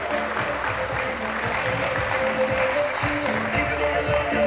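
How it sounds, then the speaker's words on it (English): Steady audience applause at a women's bikini fitness competition, a continuous wash of clapping held at an even level throughout, with a faint tonal hum running underneath. "can you give these girls some encouragement, please, by a round of applause?"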